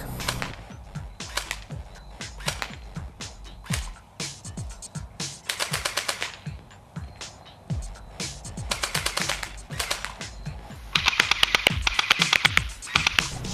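An airsoft gun fires in full-automatic mode, rattling off rapid bursts of sharp clacking shots with short pauses between strings, loud and close; a denser, harsher burst closes the sequence.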